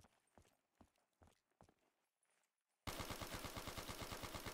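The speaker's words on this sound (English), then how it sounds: "Shooting in there just in case there's a switch" Gunfire in a Minecraft Call of Duty Zombies map, first a few spaced clopping steps or single shots, then a sudden loud burst of rapid, evenly repeating automatic fire that runs to the end.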